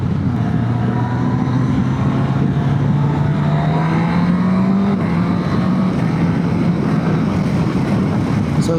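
Suzuki GSX-S 1000 GX inline four-cylinder motorcycle engine pulling hard under a full throttle, its pitch rising steadily through the revs before a gear change, loud and continuous with wind and road noise mixed in.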